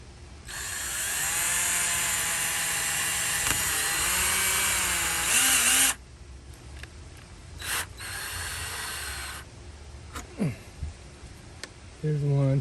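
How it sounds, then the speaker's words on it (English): A loud, steady power drill whines for several seconds close by, drilling holes in a wall for solar LED lights, then stops; brief drill bursts and clicks follow, with people talking between them. "so we got to drill some holes here"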